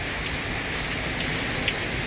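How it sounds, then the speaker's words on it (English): Heavy rain pours down outside on a residential street during a storm, a dense, steady hiss of water on surfaces, loud and constant throughout with no talking. "I don't know if you can see the storming that is happening outside. It's raining cats and dogs."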